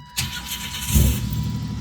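A GMC Typhoon with its knock sensor unplugged cranks and fires, a short starter whir followed by the engine catching into a low, close rumble that settles toward idle.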